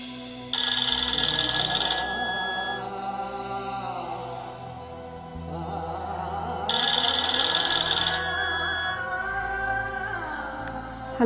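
A telephone rings loudly in two long bursts, each trilling for about two seconds before a pause, with a bright electronic bell tone and no voices.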